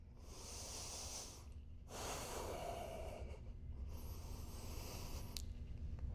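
Slow, steady breaths drawn in and let out while a yoga pose is held, close and fairly quiet, in long hissing waves with short pauses between them and no talking.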